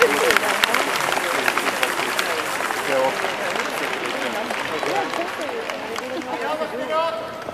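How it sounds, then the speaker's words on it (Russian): Audience at a dance competition in Dubai applauding the dancers, a continuous wash of clapping from a crowd with voices and chatter mixed in throughout. "они ждут громких аплодисментов"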